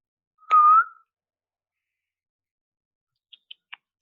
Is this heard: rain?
no